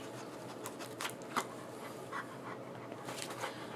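A large dog pants softly in a quiet room, steady quick breaths close by with a few faint scratches and shuffles, no talking.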